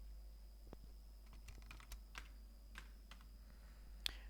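Light typing on a computer keyboard, a handful of quiet, irregular key clicks close by with one sharper tap near the end, over a low steady hum.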